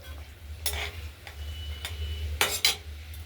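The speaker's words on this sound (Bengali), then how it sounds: "মশলাটা কষানো হচ্ছে।" A spice paste for a katla fish curry with potato and tomato is stirred in a pan. A spoon scrapes and clinks against the metal in sharp, irregular strokes over a steady low hum and faint sizzle.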